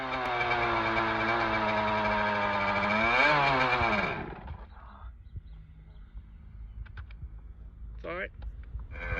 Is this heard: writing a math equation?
no